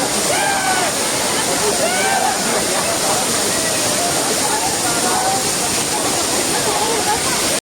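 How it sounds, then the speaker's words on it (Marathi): The Savdav waterfall near Kankavli roars loudly and steadily, a dense rushing wash of water, with distant shouts and voices faintly audible beneath it. "हा होता चावडावचा धबधबा"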